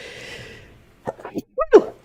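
A single sharp sneeze bursts out at close range after a short spoken phrase, preceded by a quick intake of breath.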